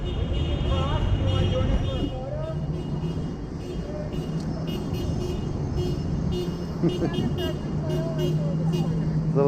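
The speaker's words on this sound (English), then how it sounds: "little rhythmic horn honking there." Car horns toot in rhythmic bursts amid roadway traffic at a street-corner sign-holding rally for Medicare for All, the honks fairly distant and partly buried under steady traffic noise and people talking nearby.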